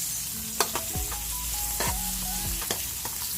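Onions sizzle in a pan of frying chicken while a utensil stirs them, its scrapes and knocks sounding close over a constant hiss of hot oil.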